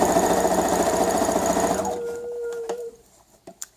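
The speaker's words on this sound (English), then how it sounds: "caught by the needle, under the presser foot, and go ahead and stitch" A sewing machine stitching a fabric face mask, a loud rapid mechanical whir for nearly two seconds before stopping, followed by a brief tone and a few light clicks and taps.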